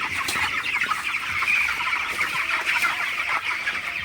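Broiler chickens on a poultry farm in winter keep up a dense, continuous clucking and chattering from many birds at once, close and steady throughout with no speech.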